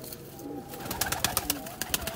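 Sialkoti pigeons coo in low, warbling phrases near at hand, joined by a burst of sharp rapid clicks and flutters in the second half.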